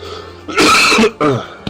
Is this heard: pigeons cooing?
no